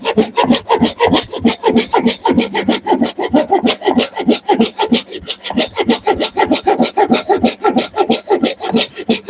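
Oak being hand carved with a blade, a close and loud run of rapid rhythmic rasping strokes, each a short scraping burst, continuing steadily without any talk.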